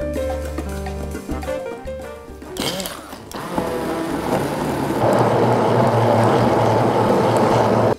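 A blender purees a béchamel-style sauce with artichokes in a tall beaker. A few seconds of mechanical handling give way to a loud, steady whirring motor that grows denser and fills the second half.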